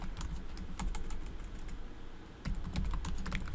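Rapid keystrokes on a computer keyboard as a search is typed into Google, a dense close clatter of clicks with a brief lull in the middle before another quick burst.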